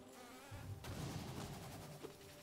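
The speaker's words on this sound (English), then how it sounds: "If these bees can let me skip places." Bees in the video game Hollow Knight make a faint, continuous insect buzz mixed with soft game ambience, steady and low in level with no talking.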